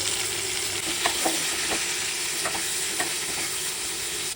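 Chopped onion fries with salt and turmeric for a spicy butter chicken base, a steady close sizzle broken by several sharp spoon scrapes and taps against the pan.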